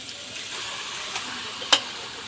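Marinated goat meat sizzling in a pan of fried spices, a steady hissing fry close by with a sharp brief clatter near the end and a softer knock before it.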